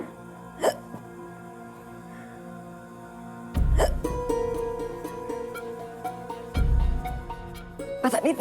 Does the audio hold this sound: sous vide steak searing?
no